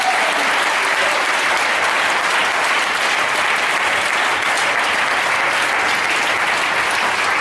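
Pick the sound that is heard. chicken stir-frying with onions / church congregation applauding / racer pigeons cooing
church congregation applauding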